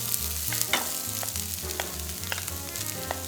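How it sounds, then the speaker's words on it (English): Chopped vegetables sauté in an oiled pan over medium heat, a steady close sizzle with repeated scraping stirs and clinks of the utensil against the pan. "And saute them for a few minutes until the onions are lightly brown."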